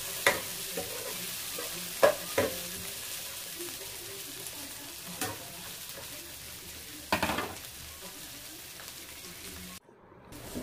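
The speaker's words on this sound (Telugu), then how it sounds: "ఈ విధంగా మిక్స్ చేసుకుంటూ ఉండాలి, మాడిపోకుండా వెజిటబుల్స్ ముక్కలు అనేవి" Vegetables and peas are stirred as they fry in a pan for vegetable dum biryani, a soft sizzle beneath a few sharp scrapes and clinks of the spoon against the pan, ending in a brief silence.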